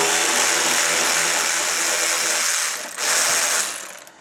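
A $49 ratchet wrench clicks rapidly and continuously as it turns bolts on the engine of a 2004 Mercedes C320 4Matic. The loud ratcheting is close and runs for about three seconds, breaks off briefly, then resumes for a shorter burst.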